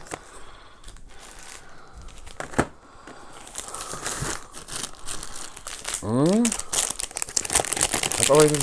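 Plastic and paper packaging crinkled and rustled while an item is packed back up, close handling noises with a brief tearing sound, a voice speaking over part of it.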